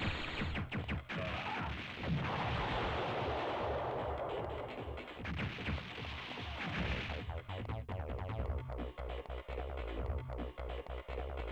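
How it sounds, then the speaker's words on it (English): Bombs explode in a PlayStation demo-disc video game, first as a loud, dense barrage of booming blasts and crackle, then as a rapid series of sharp, punchy bursts. "Keep forgetting to move away before I set off my bombs."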